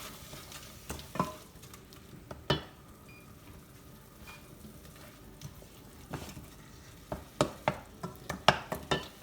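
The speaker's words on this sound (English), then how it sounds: "We don't want any colour in the onion. We just want to sweat it off." Diced onion sweats gently with a pinch of salt in a pan, a soft steady sizzle underneath while a spoon scrapes and stirs, with sharper clacks and scrapes growing busier toward the end, no voices.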